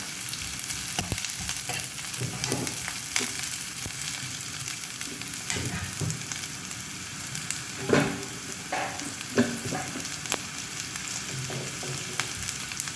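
Sliced onion and green chillies sauté in a pan for a Kerala drumstick curry, giving a steady, close sizzle with occasional stirring scrapes and clinks throughout and no speech.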